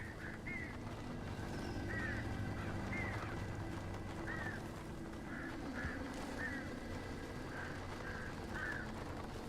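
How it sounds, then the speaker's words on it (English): A flock of birds calls in the video game Alan Wake, repeated short squawks and caws at a fair distance, spread out over a steady low ambient rumble from the game. "That sounds like a lot of birds."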